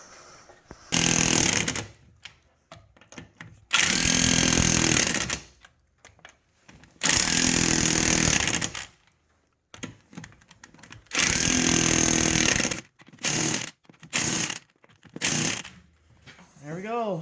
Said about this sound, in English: we'll come back with our 14mm and tighten them up with the impact gun